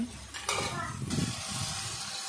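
Tomatoes being stirred in a frying pan, a spoon scraping and clattering against the pan over a steady sizzle, close and fairly loud.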